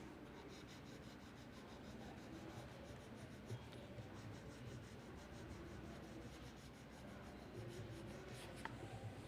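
A green colour pencil rubs steadily on paper, close by and faint, with a continuous scratchy back-and-forth strokes sound throughout and no talking.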